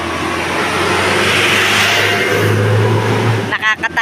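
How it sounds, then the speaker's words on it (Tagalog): Vehicles rush past on a road beside walkers, a loud, continuous close roar of passing traffic that swells and fades near the end, where voices cut in. "Nakakatakot ang mga sasakyan."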